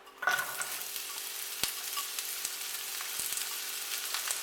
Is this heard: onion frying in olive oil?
yes